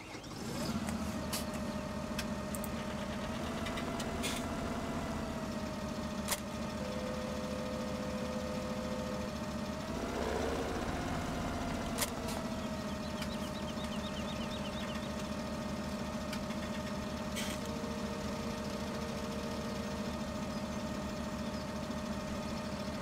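Tractor engine idling in the farming game Farming Simulator 17, a steady, loud, continuous drone that briefly revs in the middle, with no talk.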